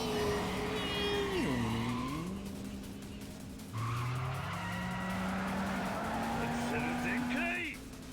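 Tires squeal as a car drifts hard through corners in Yakuza 5 Remastered on PC, the screech sliding up and down in pitch over a steady engine roar while someone talks over it.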